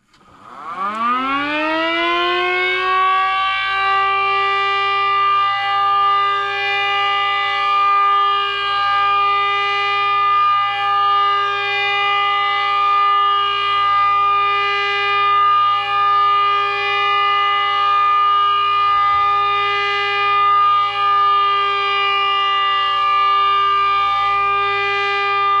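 A small 3D-printed mini Model 15 Super-Sirex siren with 7/10 ports winds up quickly into a loud, steady multi-tone wail and holds it evenly for the whole stretch, alone and close, with a low motor hum beneath.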